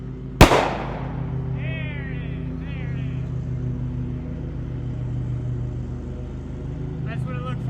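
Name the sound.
firework exploding, sulfur and potassium chlorate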